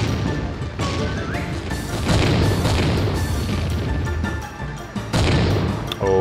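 Oil drums blowing up in the video game Tank Simulator, heavy crashing booms and blasts one after another in a dense, loud stretch with a final sharp burst near the end.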